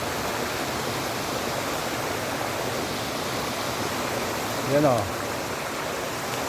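Daranak Falls in Tanay roars as a steady, broadband rush of falling water, constant and fairly loud throughout, with a brief voice rising near the end.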